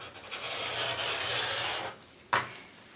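Rotary cutter or blade slicing through the corner edge of a quilt on a large table, a steady rasping cut lasting about two seconds, then a brief sharp tap as the tool lifts.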